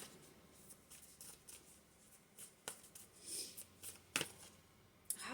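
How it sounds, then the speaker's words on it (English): Soft, quiet shuffling of a deck of tarot cards, with papery riffles and sharp flicks, a couple of crisp snaps near the end and no talking. "Oh, I just shuffled."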